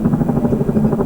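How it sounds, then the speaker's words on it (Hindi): Apache attack helicopters flying over Leh, Ladakh, with a loud, continuous, close rotor drone and steady low thumping throughout. "लेह लद्दाख के आसमान में इस वक्त अपाचे अटैक हेलीकॉप्टर्स लगातार फ्लाइंग कर रहे हैं।"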